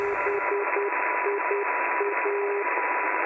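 Morse identification keyed by a non-directional beacon on shortwave single sideband, a steady tone pulsing in short dashes and gaps over a constant band of bright hiss, loud and alone.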